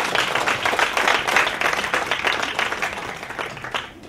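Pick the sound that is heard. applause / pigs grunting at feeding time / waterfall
applause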